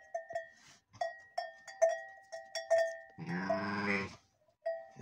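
A sheep in difficult labor bleats loudly and close for about a second amid a steady background of clanking bells and repeated tonal chimes.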